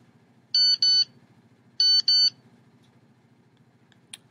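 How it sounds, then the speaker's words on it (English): A timer's electronic beeps go off in two bursts of paired tones, close and clear, over a low background murmur of a room, with a faint click at the end. "Be ready when the beep goes off."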